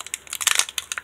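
Foil wrapper of a Pokémon Generations booster pack crinkles and crunches up close as it is carefully opened without ripping, a quick burst of dense, papery crackles.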